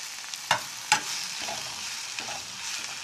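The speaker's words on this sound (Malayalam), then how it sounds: "നന്നായിട്ടൊന്ന് ഇളക്കാം." A spoon stirs grated coconut in a frying pan, giving a soft scraping and a faint sizzle with a couple of sharp clinks against the pan, heard close up and alone.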